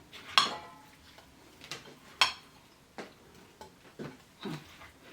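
A spoon clinks and scrapes against a bowl while fruit salad is mixed, a few sharp clinks followed by softer stirring knocks, close and fairly quiet.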